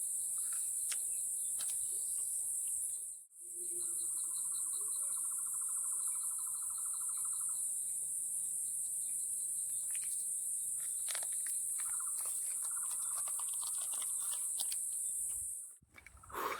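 A dense, steady wall of high-pitched cricket chirping fills the outdoors on a mountain campsite, with occasional hooting calls and faint clicks mixed in.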